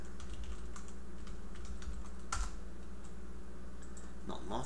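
Computer keyboard typing while entering text into a spreadsheet cell, a quick run of close, light key clicks with a few louder taps over a steady low hum.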